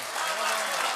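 Audience clapping for a poet at the 18th All India Mushaira in Ludhiana, a steady dense wash of applause filling the hall for the full second, fairly loud and continuous.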